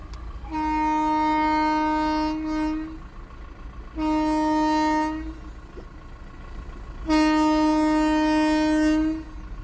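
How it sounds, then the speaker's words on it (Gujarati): A train sounds three long, loud horn blasts in steady succession while passing a closed railway crossing, with a low rumbling background between the toots. "ફાટક બંધ છે તે બધા બેઠા. રેલવે આવે."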